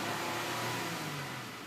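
A 2012 Ford Taurus engine held at a steady rev with a low exhaust burble, moderately loud and fairly even throughout with no voices.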